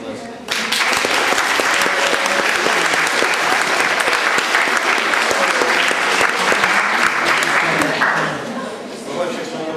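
Loud, sustained applause from an audience at a 2007 Christmas church service, steady and dense for several seconds before tapering off near the end.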